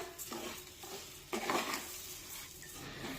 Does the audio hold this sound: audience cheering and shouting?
no